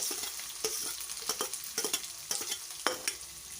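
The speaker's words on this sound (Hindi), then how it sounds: "अब हम इसको अच्छी तरह से तल लेते हैं" Chopped onions frying with garlic and green chillies in a pan for a French beans dry curry, a steady sizzle broken by repeated sharp scrapes and clatters of a stirring spoon, close and fairly loud.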